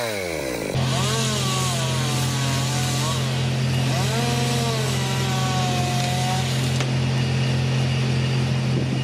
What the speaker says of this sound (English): The chainsaw roars to life, echoing through the forest.